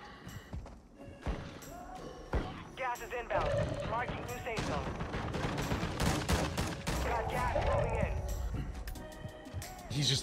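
Shotgun blasts in the video game Warzone 2 during a crowded match, with repeated loud gunshots and bursts of fire amid game noise while players talk excitedly over it.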